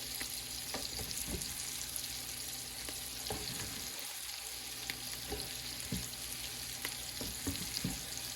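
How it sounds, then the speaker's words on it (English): Several crisp snapping cuts from a knife slicing fresh white mushrooms land at irregular intervals over steady kitchen background noise, with no talking. "I like the snapping sound when I cut them."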